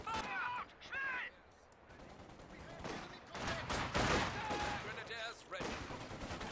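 Gunfire in Company of Heroes 2 battle game, bursts of shots and rattling fire under voiced unit callouts and battlefield noise, moderately loud and mixed with other effects.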